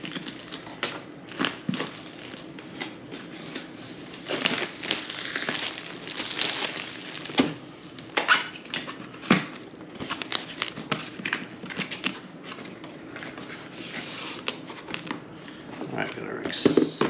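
Budget AX1800 mesh Wi-Fi router box being opened, with crinkling packaging, cardboard rustles and plastic handling noises mixed under a person talking.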